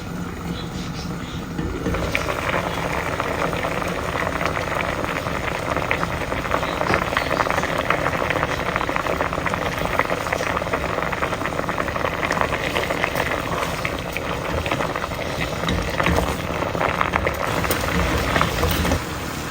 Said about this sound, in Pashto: نور نو دا پرېږدو چې ښه جوش سي.